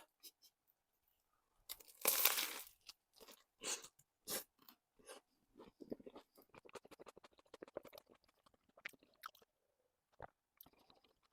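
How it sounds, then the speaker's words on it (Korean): Crunchy bread chewed close to the mic: one loud, sharp crunch at the start, then a run of softer irregular crunching and chewing bites with short pauses between them. "빵 그 씹히는 소리 들으셨죠?"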